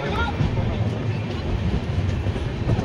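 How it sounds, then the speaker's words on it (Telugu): The Satavahana Express, running with LHB coaches, leaves Kesamudram station. A continuous low rolling rumble of the coaches on the rails is heard close and steady throughout, with faint clickety-clack. "మన ట్రైన్ కేసముద్రం నుండి అయితే బయలుదేరిపోయింది."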